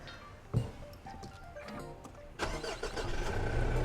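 A new Mitsubishi Triton diesel pickup starts up: a click and the starter whir, then the engine catches and settles into a steady, close diesel idle.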